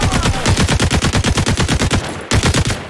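Automatic gunfire rattles loud and close in the tactical special-forces shooter Caliber, with rapid, evenly spaced shots and a brief break before a final burst.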